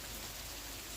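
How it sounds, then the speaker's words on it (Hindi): Steady rain falls close by in a continuous, even hiss of drops on surfaces, with no voices over it. "मैं बारिश में भीग रही हूँ।"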